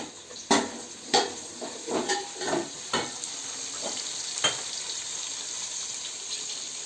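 Onions sauté in a pan for chicken biryani, with a constant close sizzle and a run of sharp spatula knocks and scrapes early on that thin out into steady frying.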